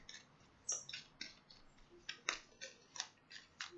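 Tarot cards slide and snap as one is drawn and shuffled from a deck, giving a run of about a dozen quiet, crisp papery flicks in an uneven rhythm, close by with no talk.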